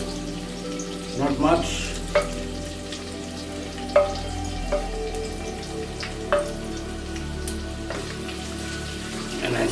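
Potatoes sizzling as they fry in hot oil in a pan alongside cauliflower, a steady crackle with occasional sharper pops and stirring clatter, a voice faintly in the background.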